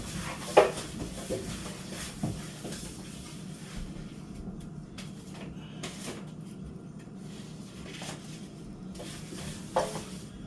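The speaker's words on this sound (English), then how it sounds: "I need to mix up my wings." Fried chicken wings being stirred through sauce in a pan, quiet wet stirring with a low sizzle and scattered utensil scrapes and clinks, one sharper knock near the start and another near the end.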